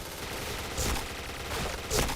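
Repeated gunshots in a video game crack loudly and close, two prominent bursts about a second apart over a steady rumble of background noise.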